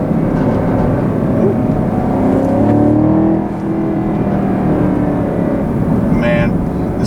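A 2020 Chevrolet Camaro 2SS with a naturally aspirated V8 and ten-speed automatic accelerates hard, a loud steady engine roar rising in pitch, heard from inside the cabin.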